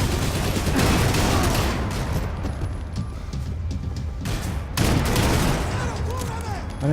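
Dense, continuous gunfire in the shooter Max Payne 3, a relentless barrage of overlapping shots and impacts filling the whole stretch, loud and near, with a brief dip before it surges again.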